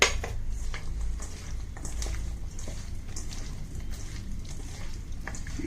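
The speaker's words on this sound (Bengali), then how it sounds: "এয়া সৰিয়হ তেল এইখিনি দি পেলাই মই ভালদৰে মিহলাই লওঁ" Small puthi fish are mixed with turmeric and mustard oil in a bowl for steamed fish. A spoon clatters and scrapes softly and continuously against the bowl, with a wet squelch of coated fish.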